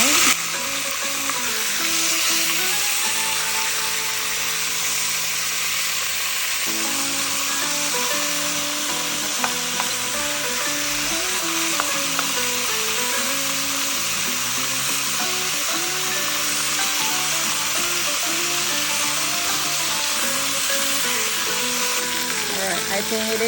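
Pork ribs sizzle and fry steadily in a pan for braised ribs, a loud, continuous crackling hiss close up, with a low voice speaking over it at times.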